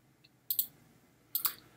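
A computer mouse gives two crisp, close double clicks about a second apart in an otherwise quiet room.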